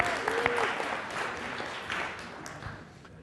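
Church congregation at a Sunday service applauds the children, a full burst of clapping that gradually thins and fades toward the end, with a faint voice briefly audible underneath.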